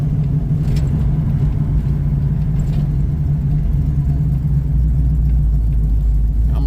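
A 1978 Malibu with a 383 stroker engine and 400 turbo transmission rumbles on a test run, a loud, steady, deep low-pitched drone from inside the car, with no one speaking.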